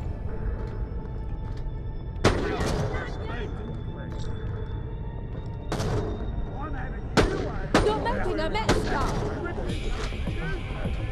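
Gunfire in the video game Borderlands The Pre-Sequel: several loud, sharp shot bursts at irregular intervals over a constant game soundscape, with someone talking throughout.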